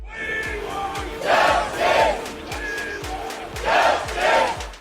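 Opposition leaders and members protest against the Modi government outside parliament, a crowd chanting slogans in loud rhythmic bursts that swell and fade over steady crowd noise.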